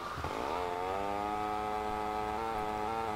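A motorcycle engine in Grand Theft Auto Vice City revs up with a rising buzzy whine, then holds a steady, strained drone, loud and close, with no talking over it.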